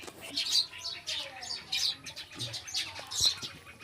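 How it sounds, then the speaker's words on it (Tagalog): Birds chirping outdoors, quick high tweets coming in repeated bursts at moderate distance, with soft background noise between calls. "Mga langgam."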